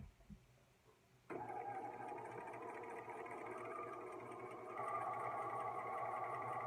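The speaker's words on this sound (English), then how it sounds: "Again, I am sewing as close as I can to that bottom basted edge." A sewing machine stitches a clean-finish seam close to a basted edge at 2.5 stitch length, starting after a brief quiet handling sound and then running as a steady, close, rapid mechanical whir that swells slightly near the end.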